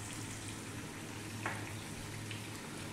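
Onion, potatoes, thyme and garlic sizzle steadily in a pan over high heat for a vegan leek and potato soup, a soft, even frying hiss with a faint stir partway through.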